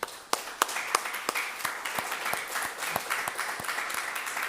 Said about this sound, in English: please give them a round of applause already.